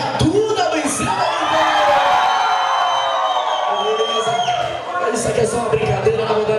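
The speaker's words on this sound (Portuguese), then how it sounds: "Quem acha que a Duda venceu, dá um grito aí." A live audience at a stage show yells and cheers in a loud sustained roar of mixed voices, with whoops on top, briefly dipping before swelling again.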